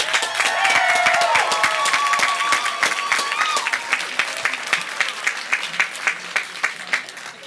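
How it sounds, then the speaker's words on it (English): Audience applause welcoming new students at a university convocation, UW Tacoma 2018: a large crowd claps loudly and steadily, with a few whistles early on, then thins into scattered individual claps toward the end. "let's give the new students a round of applause"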